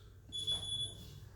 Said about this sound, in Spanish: He puesto una alarma para que no se me vaya el tiempo.